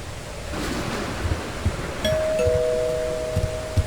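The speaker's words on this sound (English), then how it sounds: "The doorbell again." A two-tone doorbell in a video game chimes partway through, its ringing tones sustaining over a windy, stormy, surf-like background with occasional soft thumps.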